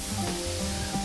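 Chopped meat mixed with onion, already browned, sizzles in a hot pan while dolma is being made; a dense, steady close-up frying hiss with faint stirring scrapes and no voices.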